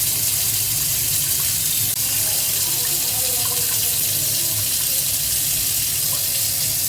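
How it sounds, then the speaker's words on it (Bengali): Water rushes quickly through steel pipes in a home, a loud, steady, unbroken gush like a running tap that fills the whole stretch with no clear voices. "জল কিন্তু বেশ তাড়াতাড়ি পাস হয়ে যাচ্ছে"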